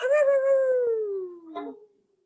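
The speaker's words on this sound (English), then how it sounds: "You guys are going to howl for your supper, right?" A hound gives one long, drawn-out howl that slowly falls in pitch, fairly close and clear, ending with a short yelp before fading to silence.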